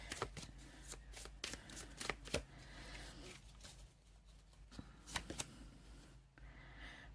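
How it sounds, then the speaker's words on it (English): A deck of reading cards is shuffled at close range in a quiet room, with quick riffling bursts and sharp snaps repeating irregularly. "Laurie Miller, let's see what the cards have to say about that"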